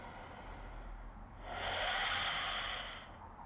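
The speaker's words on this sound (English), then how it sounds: "Taking 2 full breaths." A slow, deep breath during a seated yoga twist: a soft, airy exhale swells for about a second and a half, then fades, close and quiet over faint room hum.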